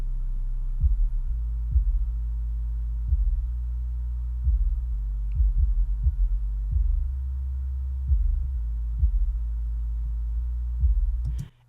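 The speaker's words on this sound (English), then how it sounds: "I know this track has a lot of sub bass. I can hear it." Deep, soloed sub bass from the low band of a beat in FL Studio: a steady, rumbling low tone with rhythmic thumping pulses, heard alone for about eleven seconds before cutting off.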